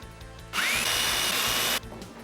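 Power drill spinning into pop rivets on a Lotus hood latch, a single loud whining burst of just over a second that winds up in pitch, close by, with quieter workshop hum before and after.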